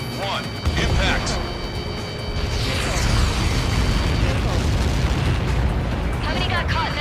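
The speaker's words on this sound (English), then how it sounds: "How many got caught in that explosion?" A missile strike explosion in the video game Ace Combat 7, a loud, sustained rumbling blast that erupts early and roars on for several seconds, with radio voices cutting in near the end.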